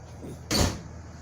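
The emergency hatch of a bus is worked open and shut in one short, fairly loud clunk with a rushing burst, alone against a quiet background.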